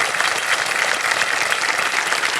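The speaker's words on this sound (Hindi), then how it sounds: "तालियां बजती रहे इनके लिए।" A game show studio audience claps steadily for a contestant, a thick, even wash of applause that holds at the same level for the whole stretch with no voices over it.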